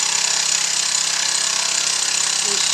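A lathe cuts the dovetail taper on a cross slide, giving a loud, steady, high-pitched machining whine with a constant grinding texture that holds unchanged throughout.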